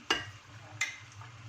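Chicken pieces stirred with onion in a single pot for a quick Saudi kabsa, two sharp scraping stirs over a soft steady sizzle, close and fairly quiet.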